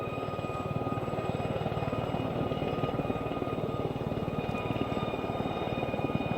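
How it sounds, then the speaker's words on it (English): Several Gazelle helicopters flying together in formation into the wind, with a steady, continuous rotor thrum and engine drone throughout, loud and unbroken with no speech. "So actually these helicopters are flying in that wind."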